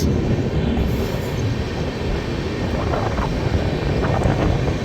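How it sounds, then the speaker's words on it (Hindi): A Navyug Express train on an Indian railway line, a steady loud rumble of wheels and cars rolling past close by, continuous with no break and no voices. "हमारे पीछे आई थिंक नवयुग एक्सप्रेस आ चुकी है।"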